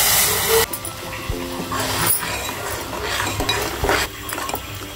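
Ground curry paste is stirred into a pan of frying onion, garlic and curry leaves, giving a loud, close wet sizzle with scraping spoon strokes and bursts of hissing steam.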